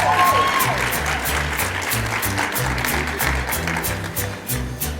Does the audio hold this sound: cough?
no